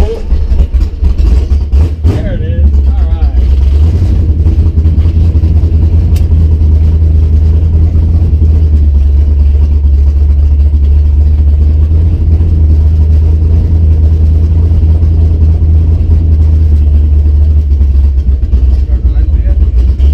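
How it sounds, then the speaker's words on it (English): Foxbody Mustang with forward-facing headers at a gas station; a starter crank around two seconds in catches, and a deep, steady rumbling idle follows, close and loud, with brief voices near the start. "It was having a hot start issue, so hopefully it starts again."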